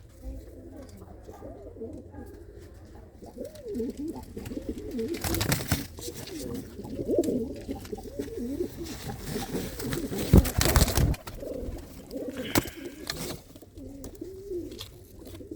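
Racing pigeons, a paired cock and hen, cooing in repeated soft, rolling coos close by, with a few sharp knocks and rustles breaking in midway.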